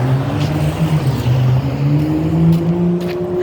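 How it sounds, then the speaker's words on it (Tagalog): Vehicles hum along a highway at night with a continuous engine drone and shifting tonal whine as cars pass close by, steady and fairly loud with no voices. "Highway na itong dinaanan namin."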